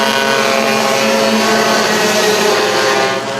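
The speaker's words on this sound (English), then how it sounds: "And that is the loud exhaust of Chisanapong Pocharantam." A loud race car engine roars past close by on a circuit, its droning exhaust tone steady and strong before fading slightly at the end.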